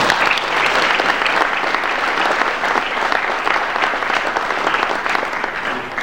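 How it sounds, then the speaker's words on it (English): Applause rolls through the crowd at a spring sports awards ceremony, a sustained wash of many clapping hands, loud and even from start to finish. "they deserve a big round of applause for them"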